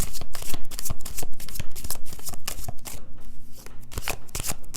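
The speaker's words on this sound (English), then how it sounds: "let me just shuffle these" A deck of tarot cards is shuffled by hand close up, a loud, continuous run of crisp riffling and slapping bursts with brief pauses between passes.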